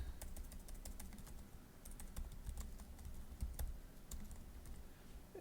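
Steady typing on a computer keyboard, a rapid irregular patter of light key clicks at close range, with no voices.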